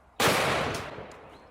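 A single sharp black powder pistol gunshot cracks out loud and close, followed by a fading, reverberant tail.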